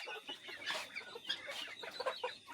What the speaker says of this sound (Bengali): চারা মুরগি পালন করি, সেই জন্য এগুলোকে ধানের গুঁড়া আর ভাত এগুলো দিয়ে খাওয়ানো হয়